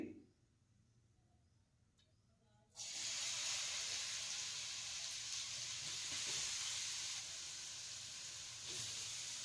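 Chopped carrot hits hot ghee, and after a quiet moment a loud, steady hiss of frying sizzle erupts and carries on evenly.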